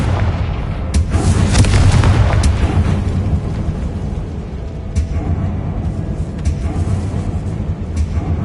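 Fiery Confringo spell explosions in the video game Hogwarts Legacy: a loud booming blast in the first few seconds with rumbling, crackling debris, then quieter scattered impacts and a low continuous rumble through the rest.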